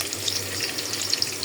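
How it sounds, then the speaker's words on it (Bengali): Onions fry in a karai (wok) on a home stove, giving a close, steady sizzling hiss with small crackles and no voices. "এই সবজিটা বসানোর জন্য আমি কড়াইতে দিয়ে দিলাম পেঁয়াজ,"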